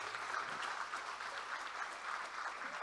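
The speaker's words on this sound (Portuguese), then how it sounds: "Pode aplaudir Ele" A church congregation applauds steadily throughout, a dense, even wash of clapping with no voice over it.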